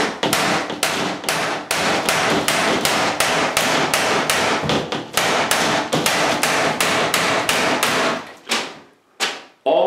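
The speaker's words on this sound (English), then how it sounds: "I'm just going to hit it with a hammer." Loud, sharp hammer blows striking an aluminum strip while removing a shower glass door, in a rapid, steady rhythm, close up, slowing to a few final hits at the end.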